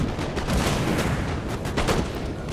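Massed musket volleys crackle in Napoleon: Total War during the battle for Vienna, a dense, continuous rattle of overlapping shots and distant booms with no clear gaps.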